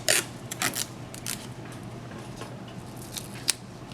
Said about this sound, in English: Now I tear my tape.